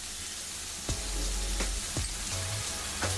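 Sandwich filling fries in a pan with tomato ketchup mixed in, giving a steady sizzle with a few soft clicks and scrapes from stirring.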